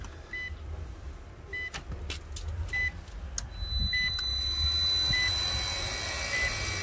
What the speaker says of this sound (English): it's having absolutely like no problem starting the compressor